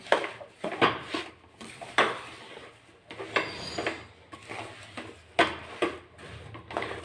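Sesame chikki mixture being mixed in a pan, with irregular metallic scrapes and clinks of a utensil against the pan in bursts with short pauses, close by.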